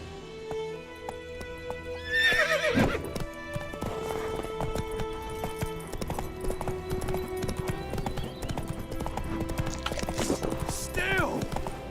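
Horse hooves clip-clop at a galloping pace in The Witcher 3 video game, with a neigh near the start and another whinny toward the end over steady background game sound.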